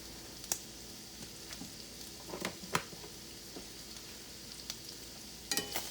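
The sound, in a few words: vegetables frying in a pan while being stirred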